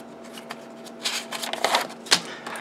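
A pen draws a diagram by hand on paper, making quiet, intermittent scratchy strokes in short bursts over a faint steady hum.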